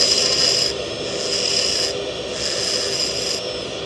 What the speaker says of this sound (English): and then I grind it here